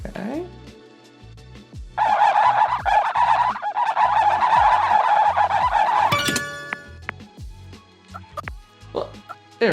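A synthetic, bird-like warbling sound effect from the board-game app Trash Goblin or Gemporium plays for several seconds, preceded and followed by clicks and short electronic blips.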